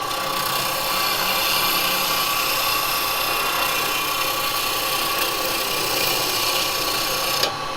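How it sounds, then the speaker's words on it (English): A skew chisel shears wood on a spinning lathe in a woodturning session, giving a continuous, even hissing cut that holds steady for several seconds close up, ending with a brief knock. "I can get a beautiful skew cut"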